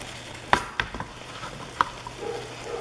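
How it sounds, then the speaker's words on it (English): Snap peas and zucchini are stirred into a Thai peanut stir fry, giving a few sharp scrapes and clacks of a utensil in the pan over a faint, low sizzle. "I'm just going to stir that in there really good."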